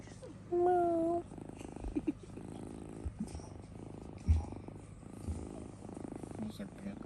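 A house cat purrs in a steady low rumble close by, with a brief voice heard near the start and soft room noise around it.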